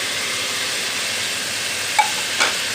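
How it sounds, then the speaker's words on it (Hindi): Masala for kadhi kebab frying in a pan, a steady close, broad sizzling hiss held throughout, with a couple of faint scrapes from stirring near the end. "थोड़ा सा और भूनेंगे और इसमें डालेंगे नमक, मिर्च, हल्दी वगैरह"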